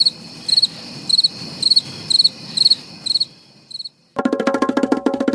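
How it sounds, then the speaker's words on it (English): Crickets chirping as a sound effect, regular bursts of bright high trills repeating about twice a second, then a denser, louder continuous chorus of chirps takes over near the end. "So we could be talking cider and not just crickets."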